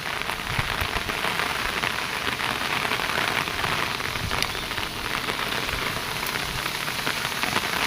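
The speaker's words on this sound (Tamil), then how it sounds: "ஆனால் மழை நல்லா வெறித்தனமாக பெய்யுது மழை." Heavy rain pours down steadily in a loud, continuous wash of drops hitting the surface, with no voices and no letup throughout.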